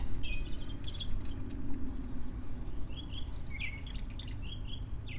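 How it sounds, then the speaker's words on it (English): Several birds chirp and tweet in short bursts over a steady low outdoor rumble, fairly close and moderately loud. "I think the birds are enjoying the break in the wind too."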